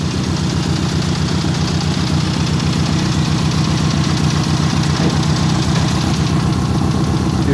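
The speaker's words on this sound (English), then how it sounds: "If you notice the kind of missing sound it makes, is because one of the injectors are failing." A Mitsubishi 4G18 DOHC engine idles loud and close with a steady, uneven pulsing rhythm, missing from a failing fuel injector; no voices are heard.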